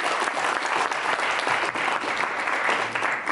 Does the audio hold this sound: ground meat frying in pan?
no